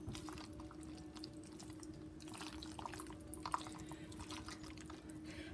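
Creamy pasta and cheese for baked ziti are being stirred, making faint, wet squelching and sloshing sounds up close over a low background hum.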